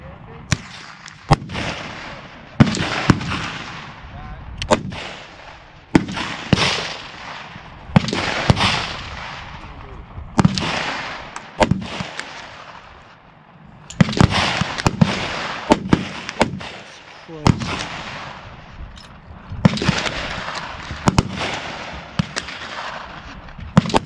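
.22 long rifle shots fired at a shooting range toward targets 100 yards out, sharp close cracks repeating every second or so with echoing tails, along with a few distant reports from other shooters.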